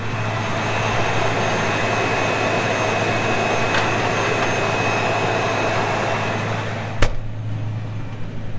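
A pneumatic seed drill's fan, set to about 3200, roars loudly and steadily while sowing green manure on a farm. The constant whooshing drone holds with a low hum underneath, and a brief knock comes near the end.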